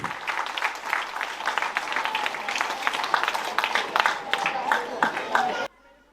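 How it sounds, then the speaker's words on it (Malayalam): Audience applause welcoming Sri George Thomas to the stage at the DMA EVE 2024 event, sustained dense clapping for several seconds that cuts off abruptly near the end. "നിങ്ങൾക്കൊരു നിറഞ്ഞ കയ്യടിയോടുകൂടി ശ്രീ ജോർജ് തോമസിനെ സ്വാഗതം ചെയ്യാം"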